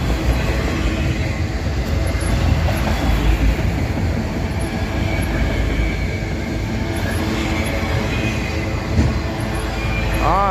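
A CSX freight train rolls past in Abbeville, its cars rumbling loud and close with steady wheel clatter, and a brief wheel squeal rises near the end.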